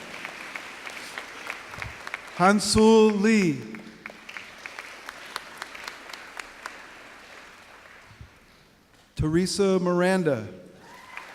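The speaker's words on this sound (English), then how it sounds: "It's okay to applaud." A biology commencement audience claps steadily in the background as graduates' names are read aloud over a loudspeaker, with the applause continuing beneath the announcer's voice.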